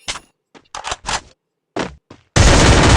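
Short bursts of gunfire in the Free Fire mobile game, several separate shots followed by a sustained loud burst at the end, close and sharp.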